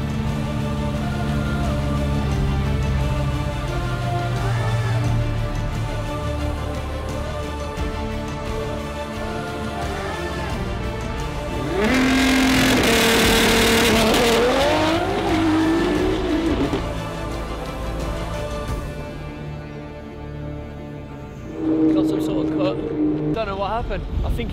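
A 2000hp Nissan GT-R R35 drag car launches on a cold track without a burnout, a loud engine roar rising sharply mid-clip into a climbing wail that fades into the distance, with crowd and track noise throughout.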